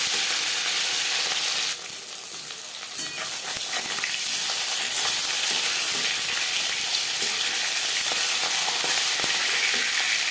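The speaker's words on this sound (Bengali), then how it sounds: "একটা সাইড ভাজা হয়ে গেলে অপর সাইডটা উল্টে দেবো।" Rohu fish pieces frying in refined oil in a pan, giving a steady, dense sizzle that continues throughout with small crackles and occasional faint stirring clinks.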